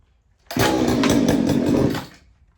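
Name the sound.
chainsaw engine running on half choke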